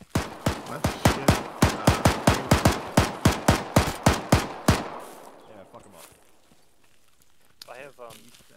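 Rapid burst of about twenty gunshots from an automatic weapon in the military shooter game Arma, loud and evenly spaced, stopping abruptly and followed by quieter ambient noise and a faint voice.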